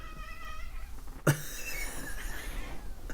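Close to the microphone, a cat lets out a short, sudden meow that trails off into a softer, thin cry, heard over faint room noise with an earlier quiet whine.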